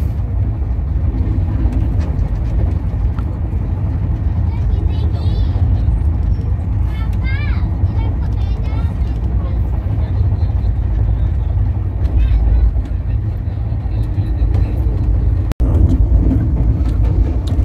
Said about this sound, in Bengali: আমাদের ট্রেন এখন ডানকুনি ক্রস করছে